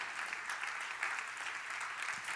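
Many worshippers in a church clap in a steady, dense wash of applause, a crowd sound that stays even and fairly loud from start to finish.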